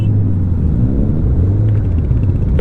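Superbikes, among them Triumph and Z-series machines, parked on the Zojila pass ride to Leh: a loud, close, continuous low engine rumble with a pulsing idle throb that holds steady throughout.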